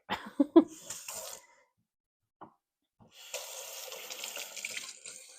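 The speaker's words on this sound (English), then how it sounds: "I'm just going to fill the rest of it with water at my sink." Water from a kitchen sink tap fills a bottle with a steady, close rushing hiss. Before it, there are a few clunks and knocks, a quiet gap and a brief tap.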